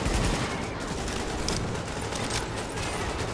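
M60 machine gun fire in Tom Clancy's The Division, a loud, dense, unbroken roar of rapid shots that runs the whole stretch without pause and with no talking.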